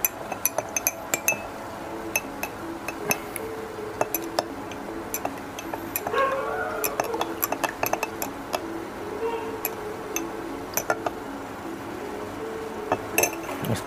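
A spoon stirs honey into green tea in a glass, with light, irregular clinks and ticks of metal against glass spread across a quiet, steady background.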